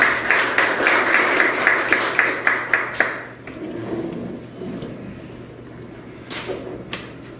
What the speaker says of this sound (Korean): 여러분 박수로 좀 환영해 주십시오